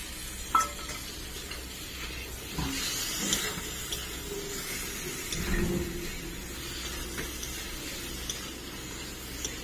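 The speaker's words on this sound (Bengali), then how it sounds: "টমেটোটা কিছুক্ষণ ভেজে নিলাম।" Chopped tomato frying in a pan over already-fried onion for a Bengali potol chingri dish, a soft steady sizzle broken by a few louder stirring scrapes and clinks, with no voices.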